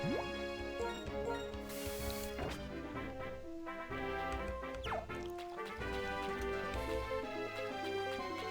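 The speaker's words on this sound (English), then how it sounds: "The splish splash sound, those were your footsteps, weren't they?" Splashy footsteps of the trainer walking through water in Pokémon Black, light repeated splish-splash patters mixed into bright, layered game music with chiming tones.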